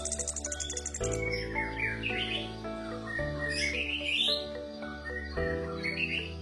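An orange-headed thrush sings a varied, melodious series of whistled phrases over a steady musical background, clear and close.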